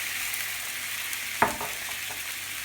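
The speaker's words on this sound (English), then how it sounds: "Pour that into the frying pan with just all the meat juices" A steady sizzle of sauce and meat juices frying in a hot pan after cooking Iberico pork pressa, with a brief clink of a utensil partway through.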